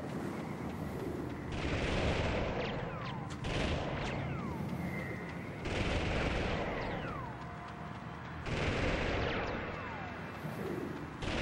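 Game gunfire and explosions from the PlayStation title Army Men 3D, heard as dense, continuous bursts of shooting and booms that swell in three loud waves over a rumbling battlefield background.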